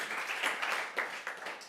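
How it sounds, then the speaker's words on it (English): Applause from an audience at a live panel event, faint and distant, a steady patter of clapping with small swells and no talk over it. "I don't know if you can hear the applause"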